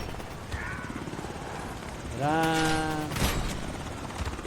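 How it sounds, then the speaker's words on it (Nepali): A brief droning army helicopter whine swells for about a second amid faint background voices, then fades into quieter ambient noise. "अब त हेलिकप्टरै पो आयो"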